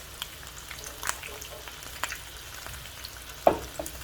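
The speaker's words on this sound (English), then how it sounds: "Fry them up until they're nice, beautiful golden brown and crispy" Beef taquitos frying in hot oil until golden and crisp, giving a steady close crackling sizzle with a few light clicks and stirring touches and no voices.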